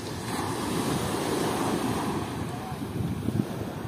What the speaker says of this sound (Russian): Что-то под конец дня так волнушки вроде как посильнее стали плескать